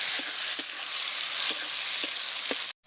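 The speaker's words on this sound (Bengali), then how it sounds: "মশলাটা একটু নেড়ে চেড়ে ভেজে নেব।" Onion, bay leaf and cumin sizzle steadily in hot oil left over from frying potatoes, a close, continuous crackle with occasional soft stirring taps, no voices.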